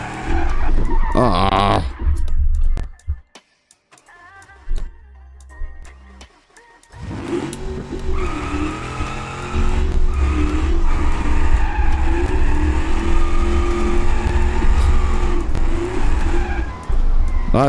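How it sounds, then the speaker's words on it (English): A car in BeamNG.drive slides under the handbrake, its tires squealing in long, loud, wavering skids. The engine drones beneath, a short lull breaks the run, and someone gives a brief exclamation. "The handbrake just guarantees that you're in a slide."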